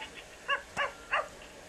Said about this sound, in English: Good boy! His name is Grit. Woof